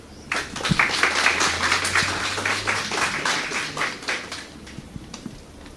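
Applause from the audience at the closing ceremony of an FAO fish waste project follows a speech: dense, steady clapping runs for several seconds before easing off toward the end.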